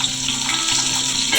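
Onion hits hot mustard oil already holding cardamom, cloves and cinnamon, a brief, loud, watery hiss of frying heard up close with no one speaking.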